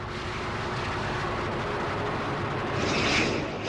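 Argentinian fighter-bomber jets flying in waves over a bay, a continuous loud roar of engines holding steady throughout and swelling slightly near the end, with no voices.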